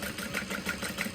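A sewing machine back stitches a tote bag, giving a steady, rapid mechanical whir with an even pulsing rhythm, alone and moderately close.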